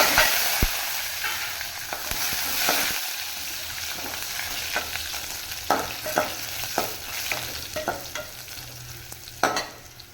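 Onions sizzle in hot oil for a green gram sambar, with steady close frying hiss broken by sharp clatters and scrapes of stirring throughout. No one speaks.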